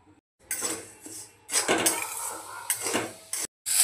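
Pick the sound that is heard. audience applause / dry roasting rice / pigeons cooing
dry roasting rice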